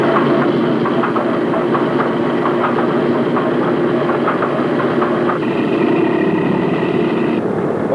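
A Boeing B-17 bomber's number 2 engine starts up with a loud, continuous mechanical roar and rattle. About two-thirds of the way through, the tone shifts to a steadier, more even drone, with no voices over it.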